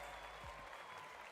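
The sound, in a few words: crowd cheering at Fortnite FNCS event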